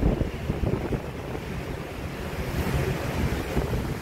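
Sea waves pound during a typhoon in Macau, a steady loud roar of surf mixed with gusting wind buffeting the microphone, continuous throughout with no voices.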